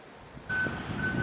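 A Woodford's brewery lorry pulls up outside a Norfolk pub, its reversing alarm starting with sharp, repeated high beeps over a low diesel rumble nearby.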